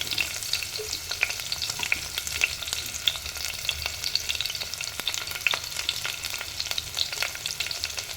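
Chopped onion, green chili and curry leaves frying in hot oil for coconut rice, giving a continuous crackling sizzle with dense pops and spatters, fairly close and steady throughout, with no voices.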